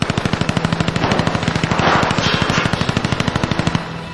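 A submachine gun fires a long sustained burst of rapid, evenly spaced shots during a bank robbery, loud and close, with a rush of noise swelling under the rattle before the firing stops.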